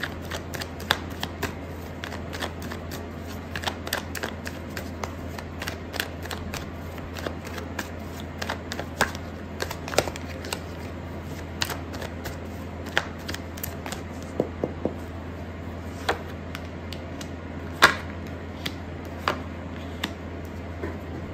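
Tarot cards shuffled steadily and close by for about twenty seconds, a continuous run of crisp riffling snaps and soft flutters with no one talking.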